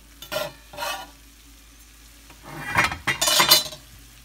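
Vegetable samosa filling being heated in a pan is stirred in a few short scraping bursts, two quick strokes, a pause, then a longer cluster of scrapes over a faint sizzle, close up, with no talk.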